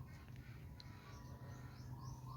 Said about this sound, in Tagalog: Tanging mga ibon lang talaga naririnig mong nag-iingay yan.